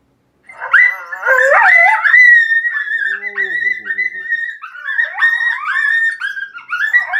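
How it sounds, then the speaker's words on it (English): An electronic predator call plays a loud coyote pup stress howl: rising, wavering yips and whining howls that run continuously, close and piercing, with no talking. "Anytime you hit that hotkey F1, that howl and that volume that you had set is going to pop off."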